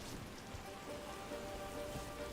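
Rain in the video game Dragon Age: The Veilguard falls as a soft, continuous patter, faint and even throughout with no voices.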